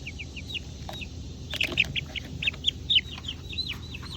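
Young dual-purpose chickens cheep and cluck in a brooder, a busy scatter of high, short peeping calls overlapping in quick bursts, close and clear over a low background hum, with no talking.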